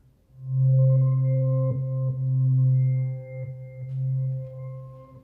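A dark, low synthesizer pad swells in gradually and sustains a deep droning chord, holding steady with gentle shifts in level.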